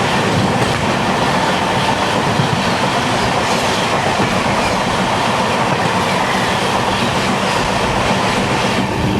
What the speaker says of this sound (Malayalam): ഫൈനലി പാലരുവി എക്സ്പ്രസ് മണലിപ്പുഴയ്ക്ക് മുകളിലൂടെ